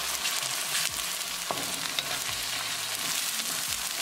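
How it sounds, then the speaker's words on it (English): Continuous close sizzling and bubbling of tomato sauce cooking with onion tadka in a pan for matar paneer, with a few soft stirring scrapes and no talking. "Cook tomato sauce along with tadka for 2 minutes"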